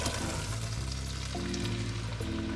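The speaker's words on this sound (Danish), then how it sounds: "jeg har smeltet noget smør i gryden her. Og der skal grøntsagerne simpelthen bare ned og svitses i." Vegetables, including Jerusalem artichokes, sauté in melted butter in a pot, giving a steady close sizzle with low bubbling and shifting tones from the pot, with no voices.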